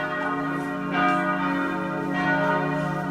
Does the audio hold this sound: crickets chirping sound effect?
no